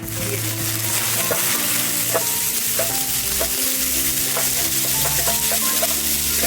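Cauliflower frying in oil with whole garam masala on low to medium heat, a loud dense sizzle with stirring clatter and scraping throughout, close up.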